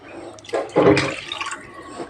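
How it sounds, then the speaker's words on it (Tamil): Tamarind water poured into a pan of simmering lentil curry, a short splashing pour that swells and then tapers off into light trickles. "இப்போ லெமன் சைஸ் அளவு புளி நான் கரைச்சி எடுத்து வச்சுருக்கேன் அதையும் நம்ம இதில் சேர்த்துடலாம்"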